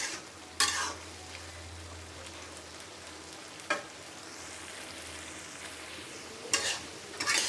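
Malabar spinach fries in garlic oil over raised heat with a soft, steady sizzle close by. Three sharp spatula scrapes stir the greens, with a low hum underneath and no talking.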